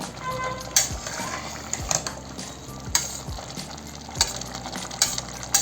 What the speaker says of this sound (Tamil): அடியிலேருந்து அப்படியே பிரட்டி விட்டுட்டு ரொம்ப போட்டு கிண்டாமல் அடியிலேருந்து பிரட்டி மட்டும் விடுங்க